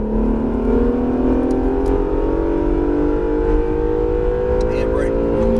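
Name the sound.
Acura NSX accelerating on a race track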